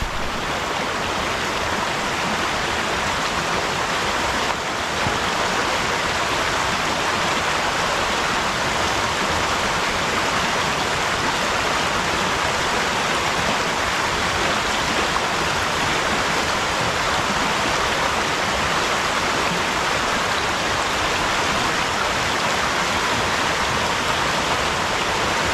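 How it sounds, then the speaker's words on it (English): A stream flows beside a hiking trail at Pictured Rocks National Lakeshore, its loud, steady broadband rush filling the scene without a break and with no voices over it. "You can cross the stream"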